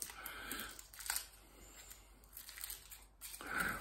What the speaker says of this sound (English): here we go. Let's unwrap.